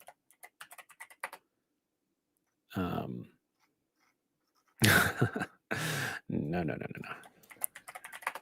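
Bursts of typing on a computer keyboard, quick light clicks in short clusters, with a few people talking in between.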